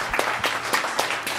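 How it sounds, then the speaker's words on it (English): Brief round of applause at a town council meeting, given to a group that has just led the Pledge of Allegiance. The clapping is quick and close, with crisp, even hand claps over a second and a half. "Can we give them a round of applause?"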